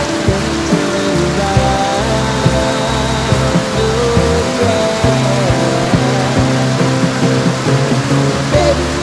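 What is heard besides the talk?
heavy rain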